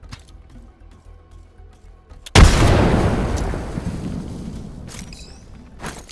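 A frag grenade explodes in the shooter game Apex Legends: quiet ambience, then one sudden loud boom that decays into a long rumbling tail, followed by a few faint clicks near the end.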